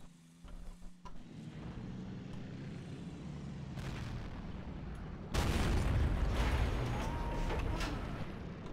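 In World of Tanks, a tank gun fires with a heavy boom close by, followed by a loud sustained rumble of battle noise and engine drone; a faint earlier thump sits at the start.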